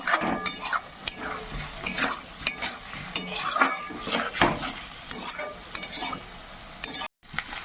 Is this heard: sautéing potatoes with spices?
yes